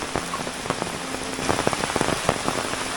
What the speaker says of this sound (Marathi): पाऊस बघा कसा पडतोय धो.